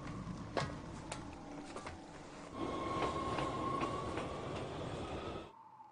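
A train rolls along with a steady low rumble, rhythmic clacks and a faint metallic squeal, ending abruptly.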